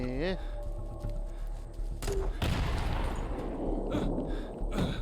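Rapid gunfire in the zombie shooter Into The Dead 2, bursts of shots rattling out from about the two-second mark onward, while someone talks over the game sounds.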